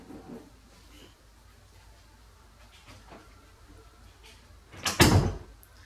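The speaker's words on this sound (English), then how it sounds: "Close the door." An indoor door, probably a bathroom door at home, closes with one loud thump near the end after a stretch of quiet household background with faint movement.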